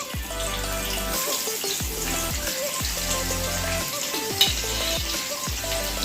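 Onions tossed into hot oil with a bay leaf in a wok for chicken and mutton curry, giving a continuous close sizzle with repeated stirring scrapes, no voices.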